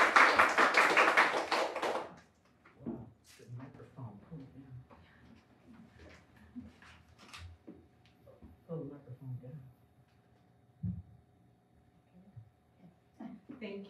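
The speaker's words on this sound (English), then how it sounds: "Please help me and give a big applause to Thao." Audience applause at a capital campaign press conference, a dense burst of clapping lasting about two seconds before it cuts off and speech takes over.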